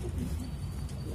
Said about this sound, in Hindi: ये छोड़े कबूतर दिखा देता हूँ आपको